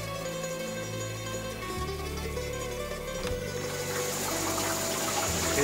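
An indoor shower runs with a steady, rushing hiss of water that grows slightly fuller toward the end.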